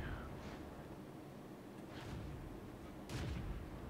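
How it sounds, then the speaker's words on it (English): Distant artillery fire from a World of Tanks match: a few soft, scattered booms and cracks spread over a few seconds against a steady battle rumble, with the last blast a little louder than the earlier ones. "Hello, artillery."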